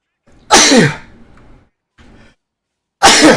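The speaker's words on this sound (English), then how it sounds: "Sorry for sneezing." A loud close sneeze bursts out, followed by a softer breathy sound and then the start of another forceful sneeze.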